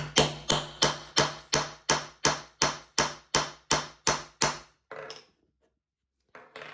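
Eleven evenly spaced, sharp hammer blows strike a setting tool to close a metal eyelet grommet on a handmade bag, followed by a lighter tap, a pause of silence, and one final knock.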